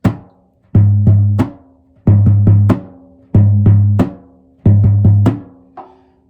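A deep surdo drum beats out repeated triplet figures, booming low strokes grouped in threes with short pauses, loud and close.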